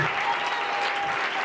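Steady applause from a church congregation at a Hindi worship service, many hands clapping in a dense, even wash that holds unbroken for the whole moment.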